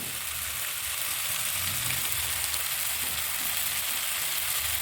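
Chili powder, garam masala and other spices fry with tomato in hot oil for egg kulambu, giving a steady, close sizzle that holds evenly throughout with no talking.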